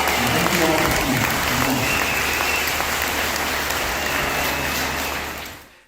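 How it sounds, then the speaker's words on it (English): Festival crowd applauding Iroquois Sky Dancers at an arts and crafts festival, dense continuous clapping from a large audience, loud and steady, fading away at the end. "give these dancers one more round of applause as they make their way down the stage"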